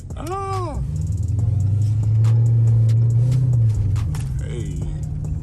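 Dodge Charger SRT sliding around a snowy corner in a snowstorm, engine rumbling loud and steady with a rising rev at the start, then droning on with wheel and slush noise; a person whoops briefly.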